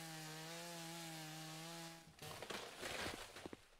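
A video-game chainsaw felling trees on a farm: a steady, droning engine tone holds for two seconds, then gives way to rougher, gritty cutting bursts that rise and fall, close and fairly quiet.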